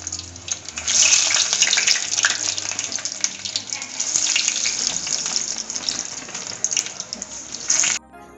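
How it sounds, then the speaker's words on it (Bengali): Chicken nuggets fry in hot oil with a loud, steady, hissing sizzle that runs for about eight seconds and then cuts off abruptly; no one speaks. "তো চলো নাগেটস গুলো চটপট ভেজে নিই"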